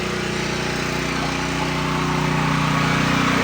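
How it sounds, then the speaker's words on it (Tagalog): A generator powering a house's lights and a 2HP Gould submersible pump runs at a steady, close engine drone, an even mechanical hum that continues unbroken. "bumili na kami ng generator."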